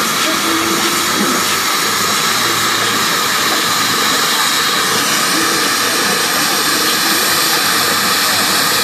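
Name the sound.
steam traction engine in a rally parade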